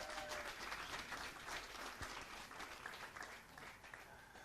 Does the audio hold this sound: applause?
yes